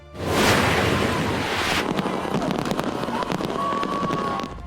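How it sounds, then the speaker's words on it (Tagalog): A New Year fireworks display booms over Pasay City at the Kapuso Countdown to 2026, a dense, loud roar of bursts and crackling that rumbles on continuously, with wind buffeting the microphone. "Nagliwanag ang kalangitan sa pagsabog ng fireworks display sa engranding Kapuso Countdown to 2026 sa Pasay City."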